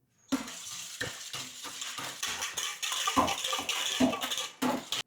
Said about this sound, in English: And to this wet ingredient, I'll add my red food color. And I'll whisk that up.